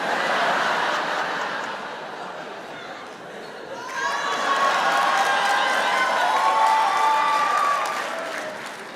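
An audience at a stand-up comedy show breaks into sustained applause and laughter, swelling midway with whoops and cheers, dense and fairly loud.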